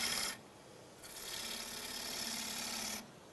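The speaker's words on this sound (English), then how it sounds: "I'm just going to remove the wood, still with the half-inch bowl gouge" Half-inch bowl gouge cutting wood on a lathe, a continuous close shaving hiss that swells and eases as the tool is pushed along the spinning bowl, with brief gaps between cuts.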